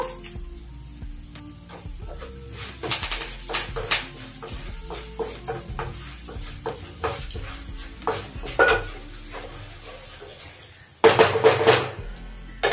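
Curry leaves go into hot oil in a pan for a ripe red chilli pickle, with clinking stirring strokes against the metal and a loud, bright sizzling burst near the end.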